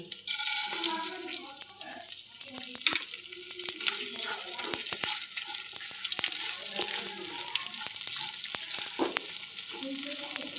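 Washed and dried Gobindobhog rice fries in a pan, giving a steady close sizzle with frequent scraping clicks of stirring throughout, and no voices.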